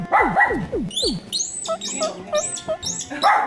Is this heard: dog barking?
yes